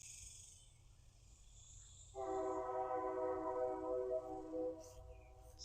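A passing train sounds its horn behind a garden, a sustained tonal blast of about two and a half seconds rising from a faint background of crickets and then fading.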